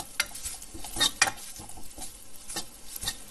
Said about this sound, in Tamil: இந்த அளவுக்கு வறுத்து எடுத்தா போதும்.